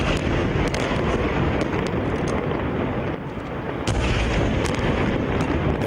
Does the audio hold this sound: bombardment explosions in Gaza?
yes